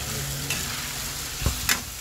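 Tomatoes sautéing in a pan for a Bisaya law-uy vegetable dish, a brief, steady close sizzle with a couple of soft stirring knocks.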